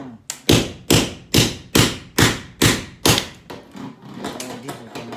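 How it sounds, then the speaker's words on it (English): A steel chisel is hammered against rivets to chop them off: about eight sharp, loud metallic blows at a steady rhythm, then lighter scraping and tapping. "now we're gonna see if we can't chop these off with the chisel."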